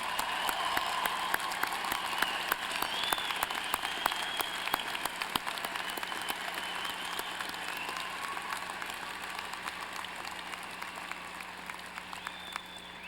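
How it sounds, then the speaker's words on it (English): Sustained applause from a large audience honoring graduates at a 2003 university undergraduate commencement ceremony, a steady dense wash of many hands clapping with no talk over it. "let's join the university community in another round of applause for these fine graduates"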